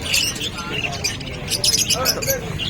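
Parakeets and other caged birds at a grotto pet market give busy, overlapping chirps and squawks, with people talking close by throughout.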